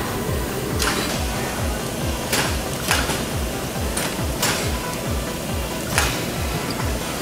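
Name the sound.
automatic screen printing press printing shirts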